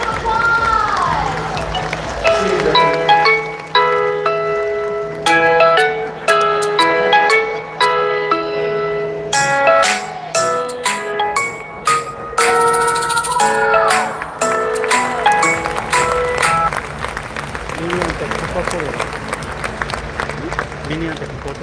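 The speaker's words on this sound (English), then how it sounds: "Let's give them a big round of applause!" Audience at a Rotary International convention closing ceremony in Taipei breaks into a big round of applause, dense sustained clapping from a large hall crowd with some cheering, under music and an announcer's voice.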